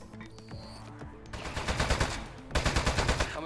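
Rapid bursts of gunfire from a weapon in the video game Aperture Desk Job, starting after a quiet stretch and repeating in close, loud volleys near the end.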